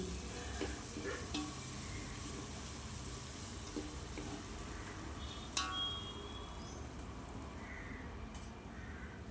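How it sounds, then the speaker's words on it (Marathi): A low, steady sizzle of Malvani masala paste frying in oil, with occasional stirring scrapes and clinks, one sharper clatter midway, fairly quiet and without speech. "आणि तो व्यवस्थित तेलात परतून घ्यायचो"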